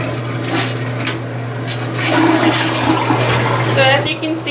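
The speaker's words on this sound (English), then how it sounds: "flush the toilet" Toilet flushing up close, a loud rushing swirl of water that builds and holds for several seconds over a low steady hum, with a hint of a voice near the end.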